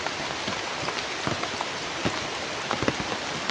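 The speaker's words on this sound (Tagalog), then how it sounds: "napakalakas ng ulan" A constant roar of heavy rainfall, with individual drops spattering close by against a thick, unbroken hiss.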